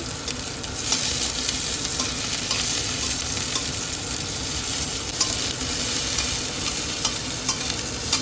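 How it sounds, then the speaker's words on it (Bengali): Dried red chilies and onions frying in oil for a spinach curry give a steady, loud sizzle with scraping stirs and small pops throughout, close up, with no talking. "ওই তেলে শুকনো লঙ্কাগুলো ভেজে নিচ্ছি, পেঁয়াজগুলো ভেজে নিচ্ছি।"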